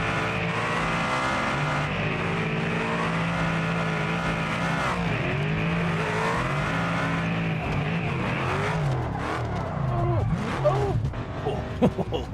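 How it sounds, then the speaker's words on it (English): A loud race car engine in BeamNG screams near its rev limiter, the pitch rising and falling through continuous hard revving with a rougher, messier burst near the end. "And this car is so loud."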